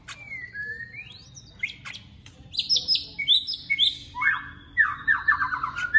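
A rio-rio starling calls in bursts of bright whistles, chirps and squawky notes, fairly close and repeating in quick phrases.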